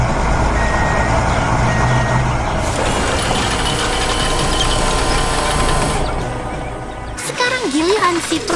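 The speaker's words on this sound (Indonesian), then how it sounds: "Dan lihat, truk molen pun tiba tepat pada waktunya." A concrete mixer truck rumbles close by with a steady engine drone and a repeating reversing beep, joined later by a hiss and clatter.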